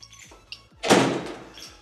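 An apartment door in a Paris flat swings shut with one loud, close thud and a short rattling tail, after a few softer clicks and knocks from the lock and handle.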